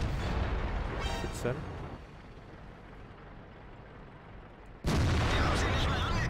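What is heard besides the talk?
tank cannon shots in video game World of Tanks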